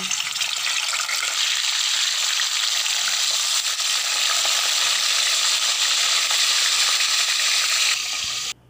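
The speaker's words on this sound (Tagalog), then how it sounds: "Naglagay na nga pala ako dyan ng mantika, tapos nung ito ay mainit na, nilagay ko na nga pala itong ating galunggong" Steady, loud sizzling of galunggong (round scad) frying in hot oil, continuous and close, cutting off abruptly near the end.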